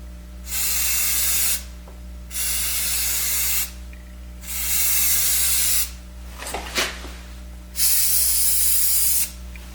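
Final coat of spray paint applied to a BlackHawk Serpa holster, heard as four close, loud hissing bursts of about one to two seconds each, separated by short pauses and a few faint handling clicks over a low electrical hum.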